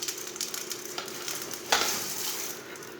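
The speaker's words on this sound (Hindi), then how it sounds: "सेवियों को भी हल्का सा ब्राउन कर लेंगे। 1 मिनट तक इसे भून लेंगे।" Vermicelli fried and stirred in a pan with chopped coconut and cashews, a steady soft sizzle with scraping stirs, then a louder clack and brighter crackle near the end, close and without talk.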